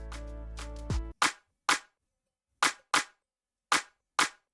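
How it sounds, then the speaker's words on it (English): A clap drum sample for an Afrobeat beat plays repeatedly in FL Studio, six sharp, bright claps at uneven spacing after a brief tonal tail fades out, each crisp and close with quick decay. "on drums I started with this clap."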